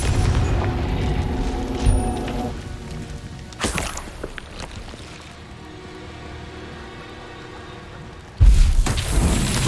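Confringo spell explosion in Hogwarts Legacy, loud booming blasts with a rumbling, crackling tail, a sharp burst near four seconds, a quieter lull, and a heavy new boom near the end.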